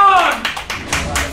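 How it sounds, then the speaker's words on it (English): Several hand claps in a quick, uneven burst, close and fairly loud, over a brief voice at the start. "Yeah, just me clapping."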